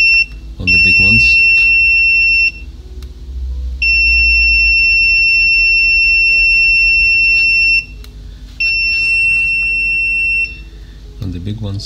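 Repeated continuity beeps from a multimeter probing components on an MSI AMD HD 7970 2GB graphics card: three long, steady, loud electronic tones of a few seconds each, separated by short gaps with faint handling noise and a low hum.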